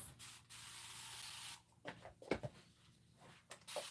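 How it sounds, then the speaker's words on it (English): A spray bottle misting fabric pieces before pressing, a steady hissing spray for about a second and a half, then quieter rustling and handling sounds of the cloth being stacked, close and fairly soft. "Maybe I'm gonna spray them and stack them and then press them."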